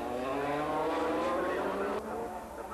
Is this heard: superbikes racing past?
yes